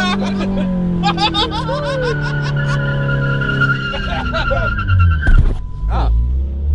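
A Chrysler PT Cruiser on a test drive, floored from a standstill: its engine revs rise and strain with squealing tones and a harsh surge near the end, loud and close, while voices shout over it.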